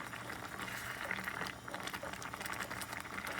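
Soondubu stew broth with gochugaru, garlic and vegetables boiling in a pot, a steady close bubbling simmer heard alone at an even level throughout.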